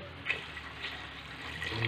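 Broth pouring into a pot of chicken sinampalukan soup, a soft, steady liquid trickle with faint splashes, quiet and close, no talking.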